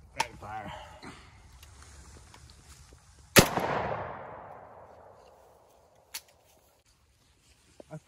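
A single sharp, loud rifle shot from 7.62 Wolf ammunition fired at a frozen ham outdoors, cracking suddenly and then rolling into a long fading echo, with a few faint thuds afterward and indistinct talk before the blast.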